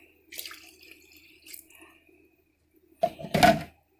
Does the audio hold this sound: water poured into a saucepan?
yes